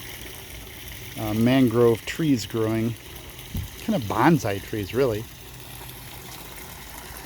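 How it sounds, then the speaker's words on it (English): A small garden waterfall spills into a koi pond with a soft, steady rush of water running faintly beneath a person talking close by. "There's my waterfall."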